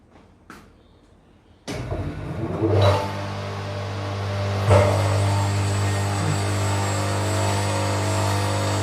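An electric machine in a power engineering lab starts with an abrupt rising whine that settles into a loud, steady hum, with a few clicks beforehand.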